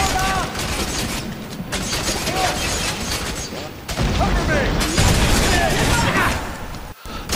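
Shotgun fire and other gunshots in the video game F.E.A.R. 3, with loud repeated blasts and clattering weapon noise over a continuous battle din, while someone talks over the top.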